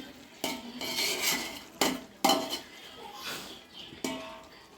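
Chicken for Hyderabad chicken biryani stirred in a pot, with repeated metal spoon clanks and scrapes against the pot over a soft sizzle, close and moderately quiet.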